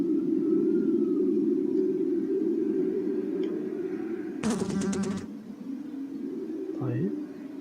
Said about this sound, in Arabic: كان سمعت صوت يعني ذبابة